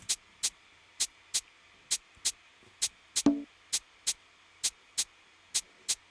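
Sharp, crisp rim shots on a kada snare repeat in a steady, evenly spaced pattern, each a bright dry click, with one short lower knock midway.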